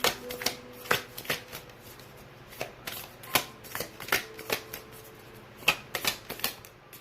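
Tarot cards being shuffled and drawn by hand, a quick run of crisp, close riffles and slaps in an uneven rhythm, with no talking.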